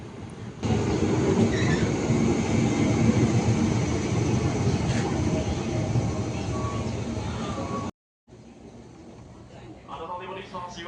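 An electric commuter train (KRL) rumbles steadily with rhythmic rattling of wheels on track, fairly loud and close, before cutting off briefly and resuming quieter.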